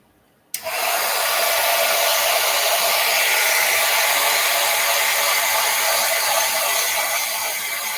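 A hair dryer switches on abruptly and blows steadily at close range to dry a print, a loud, continuous broadband whoosh that holds for the rest of the stretch.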